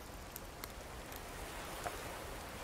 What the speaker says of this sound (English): Collect rain with a perforated coconut?